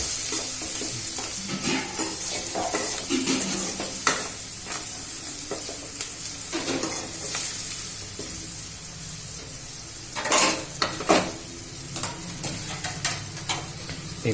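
Leftover roti upma being stirred in a frying pan, a soft sizzle running throughout with repeated scraping strokes of the spoon and a few louder clatters near the end, close and fairly quiet.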